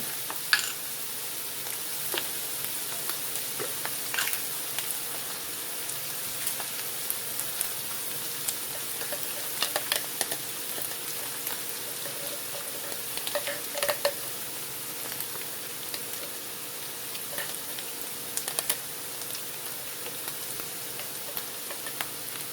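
Beef stroganoff frying in a pan, a steady close sizzle with occasional scrapes and taps as the spoon stirs through it, no talking over it.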